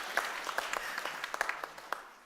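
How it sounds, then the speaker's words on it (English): Audience clapping at a Friday-night rock Shabbat service in a synagogue, a short burst of scattered, uneven claps with a few sharp individual hand strikes standing out over a soft room wash. "And I'm going to let you clap just this time."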